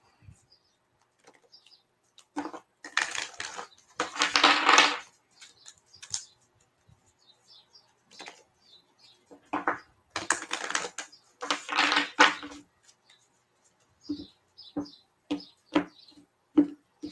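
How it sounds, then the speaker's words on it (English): Tarot cards being shuffled and drawn at a live reading, several quick papery bursts of riffling and flicking clustered in groups, separated by near silence, close and fairly soft, with no talk. "I'm gonna pull some cards first"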